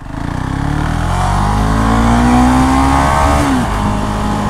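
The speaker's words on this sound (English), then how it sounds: "700cc single cylinder. It's got a lot of punch to it, but it's a small bike." A Husqvarna Vitpilen 701, a small bike with a 700cc single-cylinder engine, revs hard and accelerates close by, its pitch rising steadily for a few seconds before easing off, loud and continuous with no voices.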